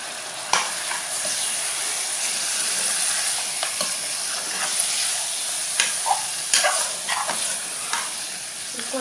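Onion and edible gum roasting in a pan for spicy Nagpur-style mutton saoji gravy: a loud, continuous sizzle and hiss close by, broken by sharp scraping taps of a spatula stirring.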